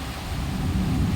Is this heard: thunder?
yes